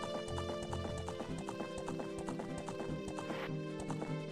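Horse Epona galloping in a video game, steady rapid clip-clop hoofbeats close and clear with an occasional whinny, light talk faintly underneath.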